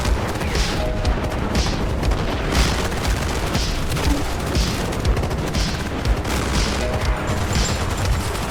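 Heavy combat in the tank wargame Armored Brigade II, with tanks under fire: rapid gunfire, machine-gun rattles and repeated booming explosions, loud and continuous with no voices.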